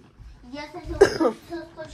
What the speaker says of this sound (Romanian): Eu tușesc într-una și respir și greu.